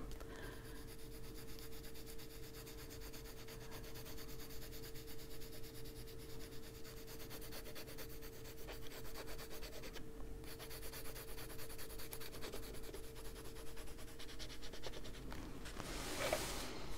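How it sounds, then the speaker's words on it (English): A coloured pencil shades paper with the side of its lead in adult colouring, a soft continuous scratchy rubbing held at a faint, even level throughout. "we're going to go back to the side of the pencil"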